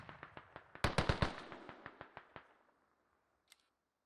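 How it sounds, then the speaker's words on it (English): Creeping artillery barrage in a military video game: a rapid string of sharp explosive cracks, some closer and louder, rolling past and fading out, followed by one last distant bang after a short pause. "Creeping barrage inbound."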